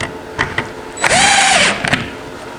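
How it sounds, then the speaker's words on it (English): A power drill drives a screw into a lightweight folding camping table in one short whirring burst that rises and falls in pitch, framed by a few sharp taps and clicks nearby. "And then in the back, I'll put these two back screws in,"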